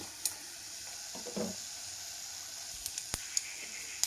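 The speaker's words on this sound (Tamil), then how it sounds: "ஒரு பேன் எடுத்துகிட்டு ஜீரகம், வத்தல், மல்லி இதை வந்து லைட்டாக எண்ணெய் விட்டு வறுத்துக்கிடணும்" Cumin, dried chillies and coriander seeds sizzle softly in a little oil in a pan, a faint, steady frying hiss broken by a few small crackles and pops near the end.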